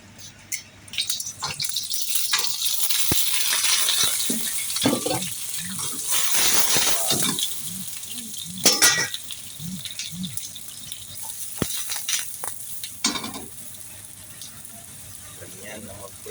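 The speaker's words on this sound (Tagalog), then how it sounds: "Ganyan na mag-prito ng talong, o eggplant guys." Sliced eggplant fries in a pan of hot oil for a Filipino home-cooked meal, giving a steady close sizzle with occasional spattering crackles and utensil clicks, with some voices heard.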